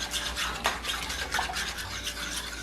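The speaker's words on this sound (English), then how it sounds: "Then we're gonna whisk this together." A small whisk beats a sauce seasoned with black pepper in a bowl, giving a quick, close rhythmic scraping and swishing that runs unbroken for a few seconds.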